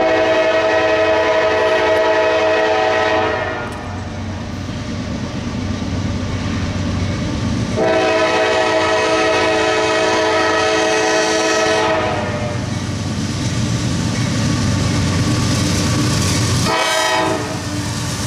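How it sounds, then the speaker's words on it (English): A northbound CSX freight train hauling steel slabs rumbles past at close range with a loud sustained horn, sounded in repeated long blasts over the heavy roar and rattle of the cars. "Northbound CSX in Glendale."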